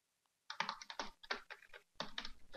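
Fast typing of code on a computer keyboard, a close, quiet run of crisp key clicks in quick bursts with a short pause partway through, no voices.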